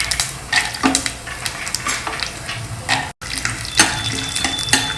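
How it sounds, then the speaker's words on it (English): Chana dal, urad dal, cashews and groundnuts frying together in a pan for a South Indian coriander rice, heard as a steady close sizzle with scraping stirs and brief clatters. "Fry all these well together."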